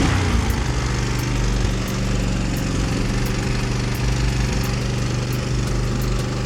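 A 1985 Honda 200M ATC three-wheeler idles steadily up close, a loud, even, slightly clanky engine rumble with a regular low thrum throughout and no talking.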